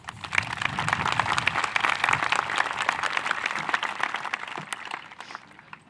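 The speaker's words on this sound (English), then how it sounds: "Let's give them a round of applause." Graduates and guests at Edsel Ford High School's 2019 commencement applauding teachers and staff: a sustained round of many hands clapping, close and fairly loud, with crisp individual claps standing out across roughly six seconds.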